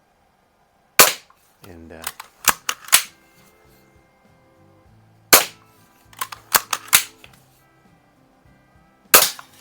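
An antique Daisy air rifle, cocked pump-action style, fires three sharp, loud cracks spaced several seconds apart, each followed by a clatter of mechanical clicks and clunks as it is worked again.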